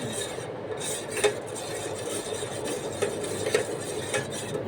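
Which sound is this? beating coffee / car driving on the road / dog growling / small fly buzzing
beating coffee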